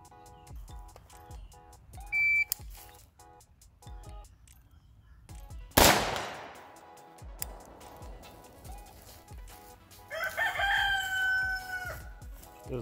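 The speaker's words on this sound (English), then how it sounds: "This fucking rooster." A rooster crows outdoors at a shooting range, its call rising loud and harmonic near the end amid scattered sharp clicks and sounds of movement.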